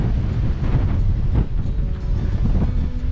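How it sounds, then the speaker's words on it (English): Heavy wind gusts across a microphone at a fishing spot, a dense low rumble buffeting continuously with no voices. "Wind's picking up pretty heavily right now"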